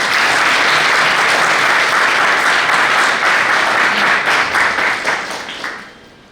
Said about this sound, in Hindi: उनके सम्मान में एक बार जोर से तालियां बजाते हैं